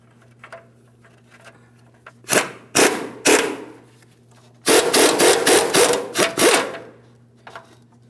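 A wrench loosening a 21mm mounting nut on the inboard side of a front upper control arm on a 2007-2014 GMC Sierra 2500 HD, heard as loud bursts of metallic ratcheting and scraping separated by pauses.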